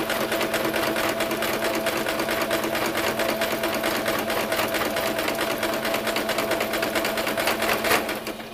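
Sewing machine stitching steadily through cloth for a rat hammock, a continuous close, fast mechanical whirring with even needle clatter that holds for the whole stretch and eases slightly at the end.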